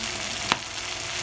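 Oil heating in a pan over a strong flame before sautéing garlic, a soft steady sizzle running throughout with one brief sharp crackle midway.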